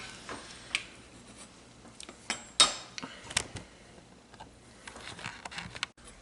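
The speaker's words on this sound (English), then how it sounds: "So we're going to slice this up to see what it looks like." A knife slices through a smoked USDA Prime brisket against the grain, producing soft irregular cutting scrapes and a few sharper clicks of the blade meeting the board, close and fairly quiet with no talk.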